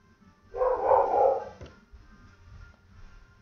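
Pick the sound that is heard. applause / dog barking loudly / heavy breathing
dog barking loudly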